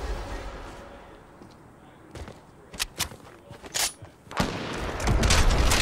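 Suppressed sniper rifle fire in the video game Fortnite: a few sharp, muffled cracks spaced irregularly over quiet game ambience, followed by a louder rush of sound at the end.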